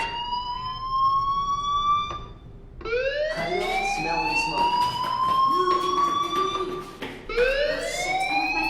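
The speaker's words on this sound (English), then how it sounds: "do you hear that fire alarm?" A rising and falling electronic fire alarm wail in the video game Life Is Strange repeats loudly, sweeping upward in pitch several times with brief gaps, mixed with faint background noise.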